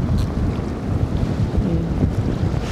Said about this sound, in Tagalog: Grabe yung hangin. Ang lamig.